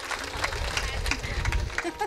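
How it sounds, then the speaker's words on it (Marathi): Listeners at a Marathi kirtan clap in a dense, steady patter lasting about two seconds, with a voice carrying over the applause. "त्यांच्यासाठीही टाळ्या वाजवा."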